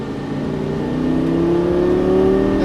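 A Lamborghini Gallardo LP550 accelerates on a racetrack, its engine note climbing steadily in pitch and growing louder as the throttle is squeezed, heard from inside the car with no talking.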